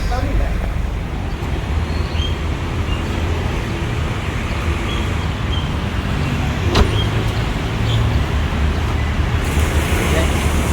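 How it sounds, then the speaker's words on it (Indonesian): A car driving into a VIP parking area at a hotel, a loud continuous engine and road rumble heard from inside the vehicle, with a voice speaking over it. "Kita masuk di parkir VIP guys."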